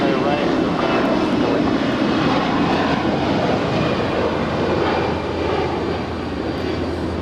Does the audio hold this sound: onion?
no